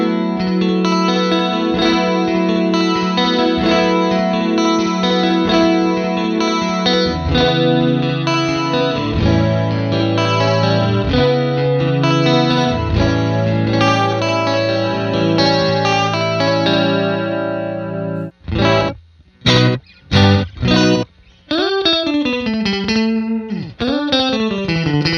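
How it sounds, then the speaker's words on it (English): A Line 6 DL4 MkII delay pedal with tape saturation and modulation processes electric guitar notes into lush, wavering, chorused repeats. Sustained layered tones run throughout, then break into choppy stuttering bursts near the end, with no speech. "Tweak is going to adjust tape saturation and distortion, and tweeze is going to adjust the modulation depth."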